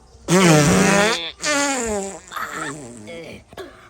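A loud, comic fart sound with a wobbling, voiced tone, heard as three bursts: a long first blast, a shorter second, then a weaker sputtering tail.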